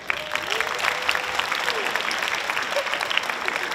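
A school assembly audience applauds high school students, the clapping dense, loud and steady for the whole stretch with crowd noise underneath.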